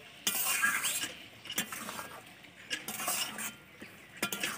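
A utensil stirs chopped coriander leaves through egg curry in a pan, giving soft scraping with intermittent metallic clinks and knocks, close and fairly quiet, with only faint frying underneath.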